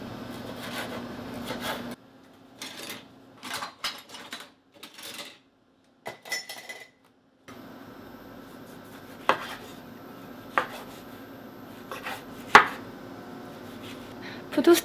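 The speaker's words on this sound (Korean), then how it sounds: "방토도 반 썰어 줄게요." A knife cuts cherry tomatoes in half on a board, giving scattered sharp taps and knocks separated by quiet pauses, with some faint kitchen rustling between cuts.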